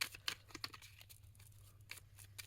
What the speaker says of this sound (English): Let's just keep shuffling and see what we get when we pull the cards.